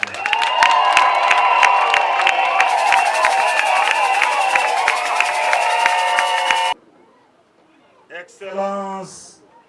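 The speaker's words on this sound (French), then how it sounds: "Applaudissez quand même pour vous." Crowd at a coronation ceremony applauding and cheering, loud sustained noise with music-like tones over it, cutting off abruptly before a brief voice at the end.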